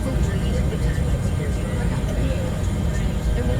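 Bell 412 helicopter engine running before takeoff in the X-Plane 11 flight simulator, a dense steady turbine whine and low rotor rumble held at constant loudness, with a voice speaking over it.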